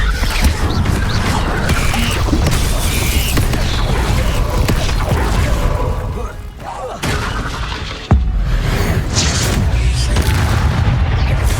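A Confringo blasting spell explodes in Hogwarts Legacy, a loud, dense, continuous barrage of booming, crackling blasts with a sharp crack near the end, while a voice speaks faintly underneath.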